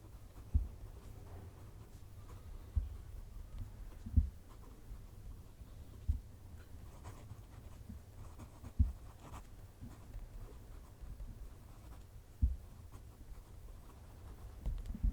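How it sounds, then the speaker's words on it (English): A TWSBI Vac700R Iris fountain pen nib scratching across paper close to the microphone, soft irregular strokes with occasional louder taps, under a steady low rumble of wind. "Go to move the mic down to the paper so you can hear the pen writing."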